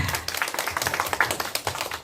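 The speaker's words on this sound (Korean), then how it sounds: "박수 한번 주세요" An audience at a village singing-volunteer event claps along in quick, rhythmic beats, fairly close and moderately loud, with some voices and crowd noise underneath.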